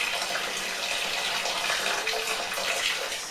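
Boiling water poured steadily into home-brewing bottles to sanitise them for a Christmas ale, a continuous close splashing gush with no voices.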